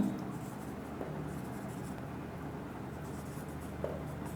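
Marker or chalk strokes scratch steadily across a board during an accounting lesson, a continuous soft scraping with no talk over it.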